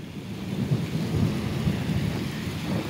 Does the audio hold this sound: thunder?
yes